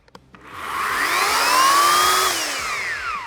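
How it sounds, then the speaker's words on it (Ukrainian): An electric chainsaw with an electronic chain brake whirs up to a loud, high rising whine after a few clicks, holds briefly, then winds down quickly as the brake stops the chain, alone without talk. "Це коли ти відпускаєш кнопку старту, а пила самостійно зупиняє ланцюг."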